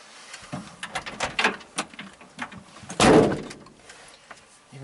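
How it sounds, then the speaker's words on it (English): Doors locking on a ZAZ 966 retro car: a series of short mechanical clicks and knocks, then one loud thunk as a door latches, heard up close inside the cabin. "Even the doors lock."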